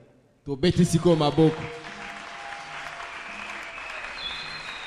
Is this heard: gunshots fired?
no